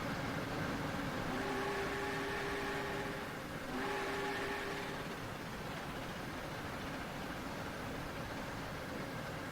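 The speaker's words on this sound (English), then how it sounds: "Oh, it's just an express passenger train." Express passenger train passing in a railroad video game: steady rumble of rolling wheels with a faint two-tone horn or whistle sounding twice early on, then continuous track noise and no voices.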